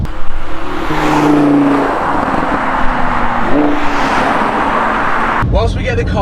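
A Lamborghini Gallardo idles while warming up, a loud continuous engine rumble with small shifts in pitch, while someone talks over it throughout.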